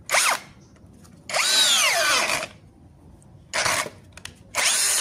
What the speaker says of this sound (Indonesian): Mata bor kipas 20 mili